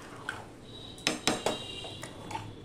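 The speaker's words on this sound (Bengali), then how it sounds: "ফোড়নটা দিয়ে সম্পূর্ণটা আমি ভালো করে মিশিয়ে নিচ্ছি।" A spoon clinks and scrapes against a metal pot while stirring tempered khichuri with winter vegetables, a few sharp knocks in the middle standing out over quiet background.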